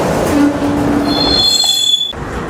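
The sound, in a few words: train passing in rail yard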